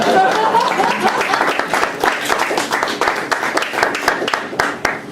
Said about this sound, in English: You can clap and stuff.